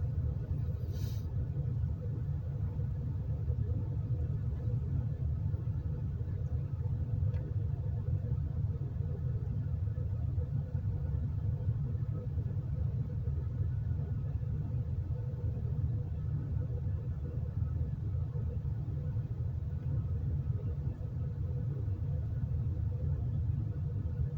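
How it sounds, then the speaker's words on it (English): A car engine idles in place, giving off a constant low rumble and hum that stays steady and unbroken throughout with no talking. "the car running too makes the camera shake too"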